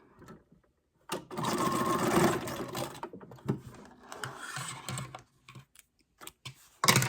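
A sewing machine stitches through paper in bursts of rapid mechanical clatter, a long close run followed by shorter stop-start runs with brief pauses between.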